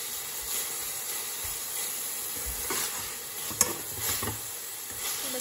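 Chicken frying in a pan, a continuous close hiss and sizzle with occasional stirring scrapes and one sharp clink of a utensil, no voices.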